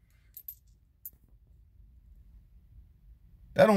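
Small coins dropping, a couple of brief light metallic clinks near the start and another about a second in, then quiet before a voice begins at the end.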